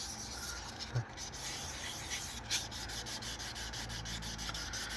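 Steady rhythmic sanding, a scratchy back-and-forth rubbing on wood heard close up, with a couple of soft knocks.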